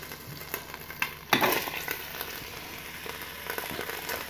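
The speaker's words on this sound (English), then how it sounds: "We're gonna go ahead and put in the onions and garlic that we just finished cutting up." Onions and garlic hit the hot pot of a Ninja Foodi with a sudden sharp sizzle, then keep frying in a crackling, spattering hiss with occasional stirring scrapes, close and fairly quiet.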